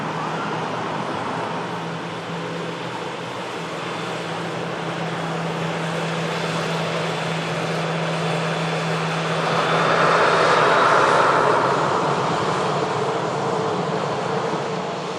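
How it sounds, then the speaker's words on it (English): A Ryanair jet airliner arriving at an airport from Faro gives a steady, loud engine roar with a low hum that swells toward the end, with no talk. "And Ryanair arriving in from Faro."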